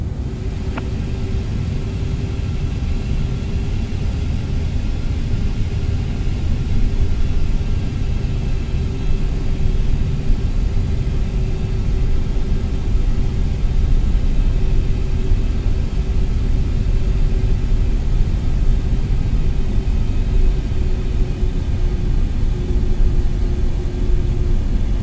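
A Boeing 747-8 in a flight simulator game rolls for takeoff with a steady, loud, low engine rumble and a sustained whine, unchanging and with no voices.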